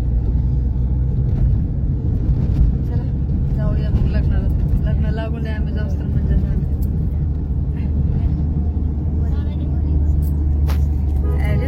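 The low, constant rumble of a car on the move fills the whole stretch, with people chatting over it.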